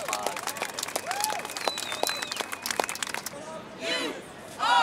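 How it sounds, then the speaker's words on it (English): A crowd at an Occupy protest applauds, a steady clatter of many hands with scattered whoops and voices mixed in, the crowd noise swelling again near the end. "And I just want to give those people a round of applause."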